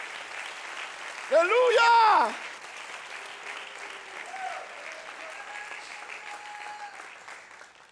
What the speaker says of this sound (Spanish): Alguien tiene un lindo aplauso para Dios en esta hora.